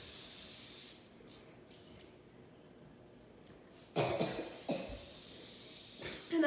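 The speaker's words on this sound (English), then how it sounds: "So please don't spray too much because it's toxic." Cooking spray hissing from a can onto a pan while making a chocolate chip pizza, with a broad burst starting midway and a few shorter sprays after, fairly close and loud against a quiet kitchen.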